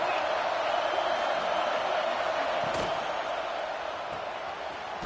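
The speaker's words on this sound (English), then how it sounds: "This crowd ready to make its presence known." Broad, steady roar of a stadium crowd in the College Football 25 video game, a dense wash of cheering that holds across the whole stretch and eases slightly toward the end, with a brief thump partway through.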